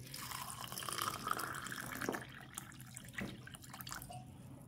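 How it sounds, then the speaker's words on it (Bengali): Water poured into a cup holding small chopped kitchen scraps for homemade garden fertilizer, a steady close splashing and trickling that runs for several seconds with no talking. "এর মধ্যে জল ঢেলে দিলাম।"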